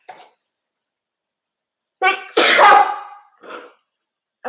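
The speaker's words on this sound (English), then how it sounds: "and I'm going to sneeze." A single person sneezes loudly indoors, a sharp burst with a short intake before it, followed by some faint vocal sounds in an otherwise quiet room.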